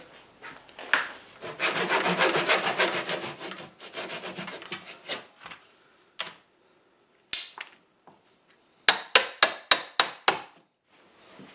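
A handsaw cutting wood trim for a chicken coop nesting box lid: a fast run of rasping strokes, then scattered knocks and a short burst of sharp rhythmic strokes, close and loud with no talking.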